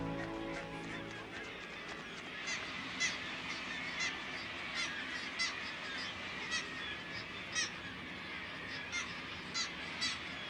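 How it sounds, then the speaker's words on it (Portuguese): Thousands of kittiwake gulls calling at seaside cliffs in Iceland, a dense chorus of distant overlapping cries with sharper calls rising at regular intervals above the steady colony din. "Na Islândia, milhares de gaivotas tridátilas descem dos penhascos de Orstrandir."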